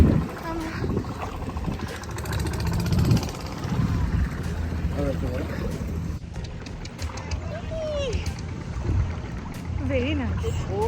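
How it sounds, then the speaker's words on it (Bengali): Tour boat on the water near Krabi, Thailand, with a continuous low engine drone and water wash close by, under ongoing chatter from passengers. "এই যে আমাদের বোট এখানে নামিয়েছে।"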